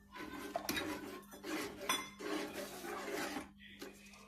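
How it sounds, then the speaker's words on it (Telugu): A spoon stirs and scrapes around a pot, mixing sugar into payasam, with repeated soft clinks and rubbing strokes at close range, quiet and without talk. "ఇప్పుడు బాగా అన్నీ మిక్స్ చేస్తున్నాను"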